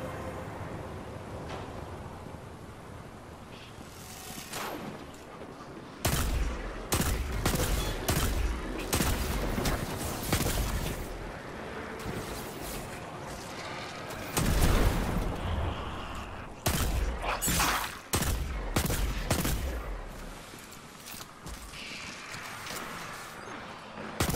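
Repeated loud hand cannon gunshots in the video game Destiny 2 crack in bursts and single blasts, with echoing booms and quieter stretches between volleys.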